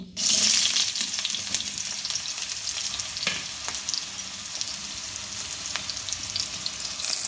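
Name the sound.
ridge gourd being stirred and fried in oil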